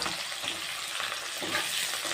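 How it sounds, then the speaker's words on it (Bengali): Onions frying in a pan of hot oil with bay leaf, dried red chilli and whole garam masala, a steady dense sizzle with light stirring throughout, close and fairly loud, no voices, for a potol chicken curry. "তো ফোড়নটা হালকা ভাজা হয়ে গেলে এখন পেঁয়াজ দিয়ে দেবো।"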